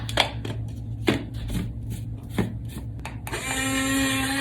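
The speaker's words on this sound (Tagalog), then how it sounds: "Mix Master Blender yung ginamit ko." A Mix Master blender starts up after a few sharp knocks and clatters, then runs with a steady whirring motor whine, close and loud, with no speech.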